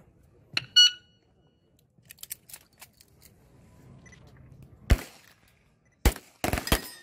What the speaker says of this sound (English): listen to the buzzer